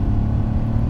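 Aprilia Tuareg 660 motorcycle engine pulling hard under acceleration around 4000 rpm, a steady loud low-pitched drone with a rough throbbing texture, close to the microphone, with no speech.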